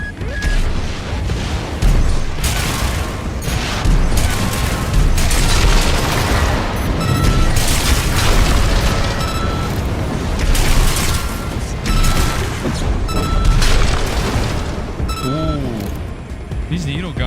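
Needle guns firing in the mech combat game Armored Core 6: Fires of Rubicon, a dense, loud barrage of rapid mechanical shots and booms running continuously, with a voice talking over it.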